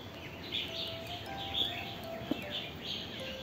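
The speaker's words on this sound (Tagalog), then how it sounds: "May ibon sa taas" Birds in tall trees outdoors give thin, high chirps and short call phrases at a distance. They are faint and intermittent over a soft, constant background hiss, and one brief knock can be heard.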